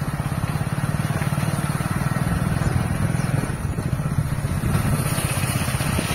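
A motorcycle engine runs steadily and loudly near a polling station at an upper primary school in a rural village, with a continuous low rumble and no clear speech over it.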